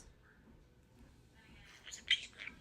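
A pet parrot gives a short, faint chirping call near the end after a quiet stretch, sounding thin and high-pitched in a calm room.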